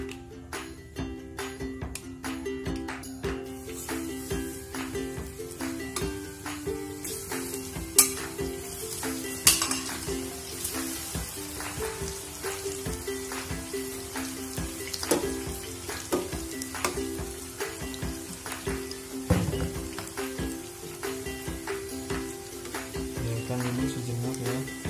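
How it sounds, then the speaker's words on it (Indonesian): Banana slices fry in hot cooking oil for caramel bananas, a steady, close sizzle and crackle running throughout with occasional clinks of a utensil against the pan. "Setelah kira-kira minyak gorengnya sudah kelihatan panas, kita masukkan pisangnya."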